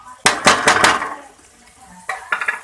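Tomato, ginger and garlic hit browned onion in a pan for baingan bharta, giving a few sharp clattering, clinking bursts of utensils and sizzling near the start, a quieter stretch, then two more bursts later.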